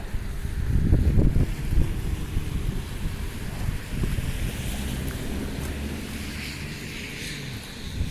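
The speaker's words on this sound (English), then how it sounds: "It's windy up here." Gusty wind on a snowy street in Halifax buffets the microphone with low rumbling bursts, strongest early on, then settles into a steady roar with no one speaking.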